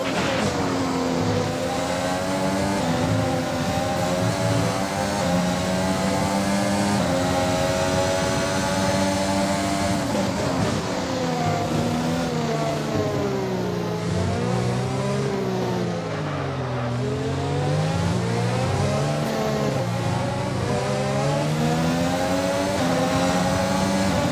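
An F1 race car in the F1 2021 racing game howls through a lap, its loud high-pitched engine whine rising and falling with gear changes and braking and never letting up, with no talking.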